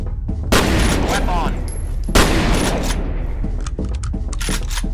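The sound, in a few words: shotgun firing in a video game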